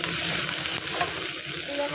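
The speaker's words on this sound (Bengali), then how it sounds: "আর কুঁদরি পেঁয়াজ দিয়ে ভাজলাম" Constant bright sizzling of ivy gourd and onion frying in oil, close and loud, with faint stirring underneath.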